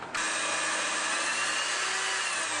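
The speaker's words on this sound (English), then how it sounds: "We are drilling a hole through one of the beta beams" A power drill bores through a metal roof beam inside a ProMaster van, starting abruptly and holding a loud, steady high whine close by for a couple of seconds.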